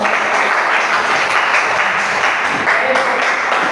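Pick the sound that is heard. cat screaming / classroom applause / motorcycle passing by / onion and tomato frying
classroom applause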